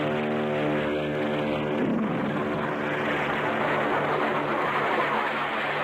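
A propeller plane on an Antarctic expedition takes off with JATO rocket bottles firing, first a droning engine tone, then a loud, dense roar that holds steady to the end.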